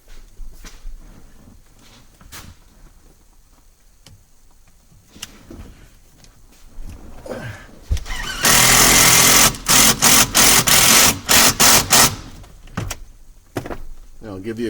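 A drill drives a self-tapping screw into a structure bar of a 2008-2010 Ford Super Duty truck to fix a ground ring, giving several loud bursts of whirring and grinding over a few seconds among quieter handling noises and clicks.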